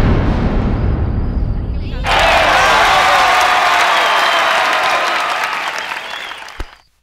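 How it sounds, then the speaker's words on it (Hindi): Thunderous audience applause greets a performer's stage entry in a Bhojpuri film scene. It bursts in suddenly after a brief moment of talk, stays loud and dense for several seconds, then cuts off. "जब हम स्टेज पर एंट्री मारब ना तो गड़गड़ा के ताली मरिया लोग"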